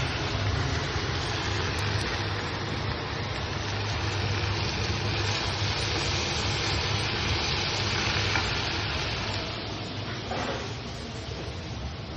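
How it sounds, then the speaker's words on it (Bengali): Mutton sautéing in a pan at home during dinner preparation, a continuous loud sizzle and frying hiss held close for the whole stretch, with no voices. "ভালো করে সবটা একসঙ্গে কষিয়ে নেব।"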